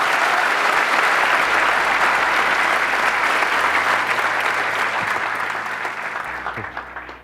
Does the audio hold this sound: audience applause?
yes